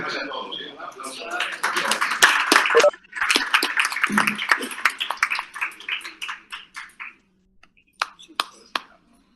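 A seminar audience claps together: a burst of close, sharp hand claps that grows dense, then thins into scattered individual claps and a few last isolated ones before falling quiet.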